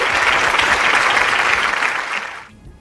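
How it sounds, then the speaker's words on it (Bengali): An audience claps in a dense, steady burst of applause for a contestant from Haidarpur at a Student of the Year competition show. The applause stays even and loud, then thins and fades out near the end. "হায়দারপুর থেকে রাজ বিশ্বাসের জন্য হাততালি।"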